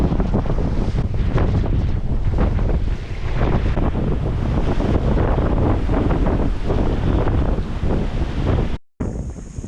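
Strong wind buffets the microphone aboard a sailboat racing on the cold, sunny Atlantic, a loud roaring rush with surging waves and water noise throughout, cut briefly near the end.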